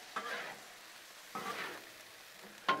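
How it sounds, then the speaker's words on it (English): Hamburger meat, peppers and onions stirred on a Blackstone griddle sizzle, with three scraping stirs of a spatula at even intervals over a steady low frying hiss, close and moderately quiet. "Let's give everything a stir again."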